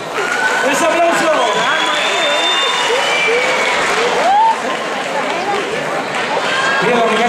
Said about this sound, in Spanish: ¡Les aplauso!